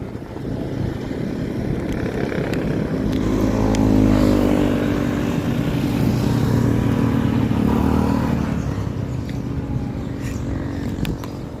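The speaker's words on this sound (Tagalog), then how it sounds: "Sasakay ako ng motor." A motorcycle ride with a continuous droning engine hum that builds toward the middle and eases slightly as the ride goes on, close and fairly loud, with no talking.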